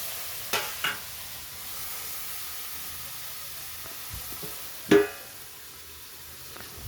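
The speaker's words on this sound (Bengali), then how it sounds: "এবার একটু নাড়িয়ে দাও, নাড়িয়ে ঢেকে দেবো" Meat and potatoes frying in a pan under a steady soft sizzle, with a few scraping stirs and a louder clatter of the spoon near the end, with no talking.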